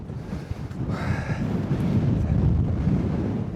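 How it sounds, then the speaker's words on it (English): Wind gusting across Bleaklow moor in the Peak District, a loud continuous buffeting roar on the microphone that swells and holds steady, with no voices. "That wind chill is biting."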